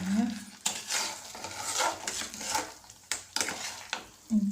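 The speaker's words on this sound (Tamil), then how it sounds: "இந்த எஜ்ஜில் வச்சுட்டு நல்லா கிண்டிங்க" Dates halwa is stirred firmly in a pan over a low flame, with the spoon scraping and knocking against the metal edge in repeated bursts over a light, thick bubbling sizzle, close up.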